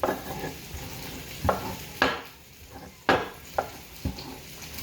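Ingredients for beef birria are smashed by hand in a bowl or mortar, giving a series of sharp, irregular thumps and scrapes over a soft sizzling background.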